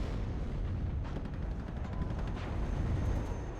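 Steady, dense rumble of distant gunfire and explosions from a commando unit's fight in WARNO urban warfare, a continuous low roar with faint crackling reports and no voices.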